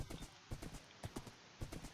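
Horse hooves in the video game Minecraft clip-clop in a quick, steady galloping rhythm, repeating in groups of beats, fairly quiet and unaccompanied by speech.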